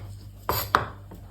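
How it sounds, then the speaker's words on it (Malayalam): A knife chops through onions and green chilli on a board, giving two sharp close cuts followed by a fainter third in a quiet kitchen. "ഇത് നമ്മളൊന്ന് അരിഞ്ഞെടുക്കുക."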